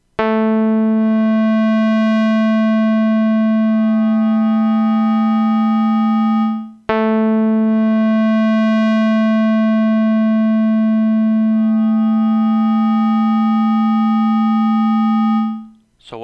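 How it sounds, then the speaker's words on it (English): Synthesized waveforms fade in and out one after another: a buzzy sawtooth-type tone, then a hollower square-type wave, then an inharmonic bell-like tone. Steady and loud, with a brief dip between two long sustained passages and no speech. "We begin with a sawtooth type wave, then that disappears and we fade in a square type wave, then that disappears and we fade in a inharmonic bell type wave."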